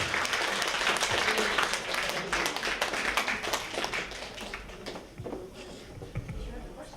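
Audience applause at a regional community concert, lively clapping that is strongest at first and thins into scattered, sharper claps over seven seconds, with some voices and stage noise mixed in.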